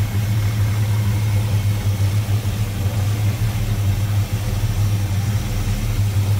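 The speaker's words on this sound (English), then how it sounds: "That engine warmed up a little bit. The Edelbrock 4-barrel on it idled down" A 1970 Plymouth Road Runner's warmed-up 400 engine with an Edelbrock four-barrel carburetor idles steadily with a deep, even rumble, close and loud, holding a constant low drone without revving.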